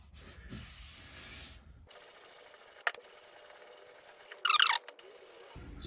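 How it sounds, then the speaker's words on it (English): Body filler on a Jeep Patriot panel is sanded by hand in a few short, quiet rubbing strokes, with one brief harsher scrape standing out among faint pauses. "I just carry on sanding a bit deeper"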